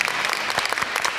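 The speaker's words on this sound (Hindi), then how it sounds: "इनके लिए बहुत सारी तालियां।" A studio audience applauds the host of a talk show, a short, dense burst of clapping that fills the space at steady loudness with no voices over it.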